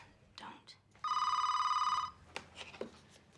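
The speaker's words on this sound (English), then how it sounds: "Give me the phone. I'll call Jolene" A telephone call is placed, and a single electronic ringing tone sounds for about one second in a quiet room, with faint voices before and after it.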